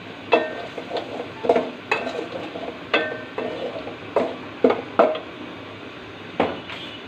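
Potatoes cooking with spices and tomato in a pan, a spatula scraping and knocking against the metal in a loose, repeated rhythm of short strokes over a low sizzle, close and fairly loud with no talking.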